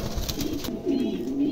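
A pair of large adult Lakha pigeons coo in low, rolling bursts, close and fairly loud, with a faint voice in the background.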